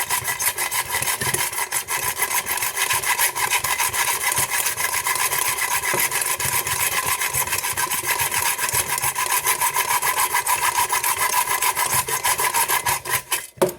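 A hand saw rasps steadily through a metal lock being cut open for a cutaway, a continuous close scraping with fast, even strokes throughout and no talking.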